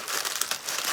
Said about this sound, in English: So you crumple up this terrible ramen noodles and then you put them in the pan.